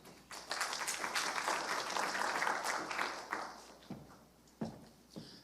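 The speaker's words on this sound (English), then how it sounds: "Please welcome him with a big round of applause." Audience applause welcoming the Head of the EU Delegation to Korea at a defense forum, a dense wash of clapping that fades toward the end, leaving a few scattered claps.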